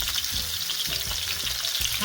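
Young potatoes fry and brown in a pan with a bright, continuous sizzle and crackle, broken by a few soft low knocks as they are stirred or turned, close and steady with no voices.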